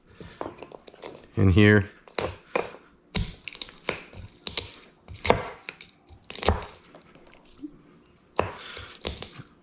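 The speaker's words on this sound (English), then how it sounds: "first I'm going to start by pounding a little garlic" Garlic cloves pounded in their skins in a kitchen while preparing baba ganoush, a series of sharp irregular thuds and knocks, close and clear, interspersed with someone talking.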